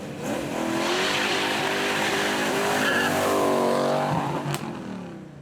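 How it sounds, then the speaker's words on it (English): A TVR sports car does a burnout at a supercar show, its rear wheels spinning as the engine roars and the tyres screech continuously for several seconds, loud and close. "Those rear wheels spinning all the way through."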